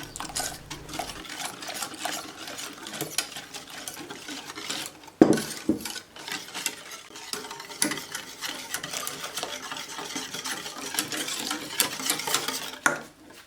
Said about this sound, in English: Make sure to mix everything together so we don't have any clumps or lumps.